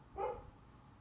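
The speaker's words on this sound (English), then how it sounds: "that's my dog." A single muffled dog bark rings out briefly indoors, moderately faint, followed by quiet room tone.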